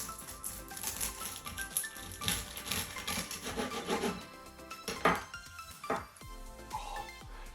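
A knife saws through a crispy fried vegetable spring roll on a small plate, producing a dense run of crackling, rasping crunches up close, followed by a few sharper scattered cracks.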